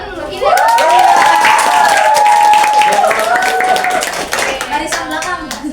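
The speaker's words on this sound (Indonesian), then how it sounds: "tepuk tangan dulu ini" Classroom of students clapping their hands together after a classmate's answer, a loud burst of many overlapping claps with a teacher's voice and children's chatter running over it before fading.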